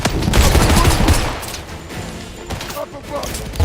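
Video game gunfire in a rapid fusillade of loud close shots and bursts, with excited voices talking over the action.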